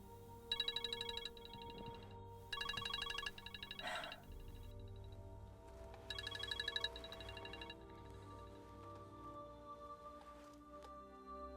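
A mobile phone rings in short electronic trilling bursts that repeat several times, fairly faint, over a quiet room tone in a drama scene.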